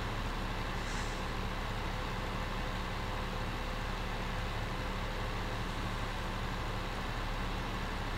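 A heavy vehicle engine in Giants, a driving-game vehicle mod, runs in third gear as a steady, constant drone and rumble with broad noise and no pauses.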